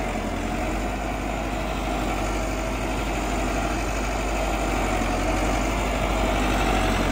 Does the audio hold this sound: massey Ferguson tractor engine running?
yes